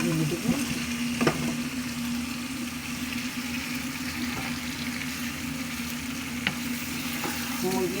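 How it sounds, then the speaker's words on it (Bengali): Lightly pre-fried chicken pieces going into cooked spice masala in hot oil for a Bengali chicken roast; a steady, close sizzle runs throughout over a constant low hum, with a few sharp clicks. "এখন আমি যে হালকা ভেজে রাখা মুরগিগুলো এখানে দিয়ে দেব।"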